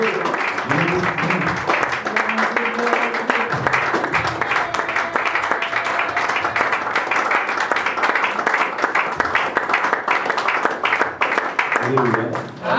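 A church congregation applauding and cheering in welcome for a pastor, a dense sustained wash of clapping throughout, with voices speaking over it at the start and end.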